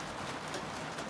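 Rain falling steadily around an outdoor dome, a dense even patter with faint bird cooing in the background.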